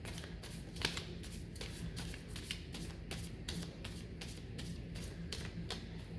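A deck of playing cards is riffled and bridged repeatedly, a steady run of soft papery flutters and crisp slaps close by, with no talking.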